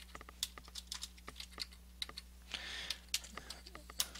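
Typing on a computer keyboard, with distinct close clicks in an uneven rhythm over a low steady electrical hum, and a brief rustle partway through.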